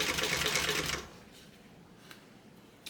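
A sewing machine stitching a bag pocket in a close, steady whirring run for about a second that then stops, leaving faint handling clicks and quiet room noise.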